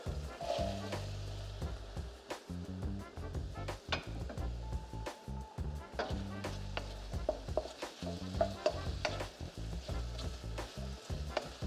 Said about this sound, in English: And now we'll add the onions.